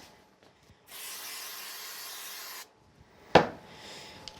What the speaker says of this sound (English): give it a little bit of spray glue on the back